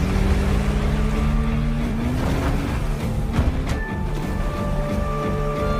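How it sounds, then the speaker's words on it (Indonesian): A speedboat racing across open water, its engine a steady loud drone with rushing water and spray running continuously throughout. "Lam pun menyewa speedboat untuk mengejarnya."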